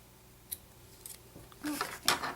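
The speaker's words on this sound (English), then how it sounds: "I'm going to have to grab my scissors because I can't X-Acto knife this one. Just cut these ends." Scissors snipping the ends of a paper craft ribbon, a few short close cuts building to two louder snips near the end, with no talk over them.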